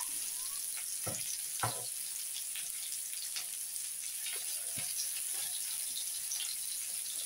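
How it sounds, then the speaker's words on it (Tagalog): Hot oil spatters and crackles as pork grills, a steady fine sizzle broken by a few sharper pops near the start, close by with no one talking. "Natasik yung mantika."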